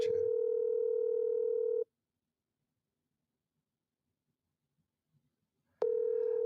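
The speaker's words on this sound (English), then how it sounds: "I got her on speakerphone." A phone dialing out on speakerphone gives a steady electronic ringback tone that holds for about two seconds, falls silent for several seconds, then sounds again, clear and fairly close with no talk.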